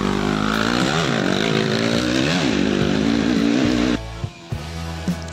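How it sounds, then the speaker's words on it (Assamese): Several motorcycles in a bike race start, engines snarling and revving loudly and continuously, with rising and falling pitch sweeps, then cutting back sharply near the end to quieter idling and a couple of blips. "বহুত বাইকাৰ্ছ আহিছে ইয়াতে ফাইনেলি ৰেচিং ষ্টাৰ্ট হৈ গ'ল"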